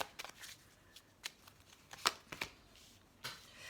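Tarot cards are shuffled for a reading, quiet irregular riffles and soft slaps of the cards in close succession, faint and near, with no talking.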